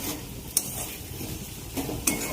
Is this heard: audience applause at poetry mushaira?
no